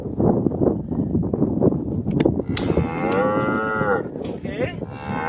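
Calf bawling loudly during ear tagging at calving time, with several drawn-out moos over a busy farmyard background with wind noise.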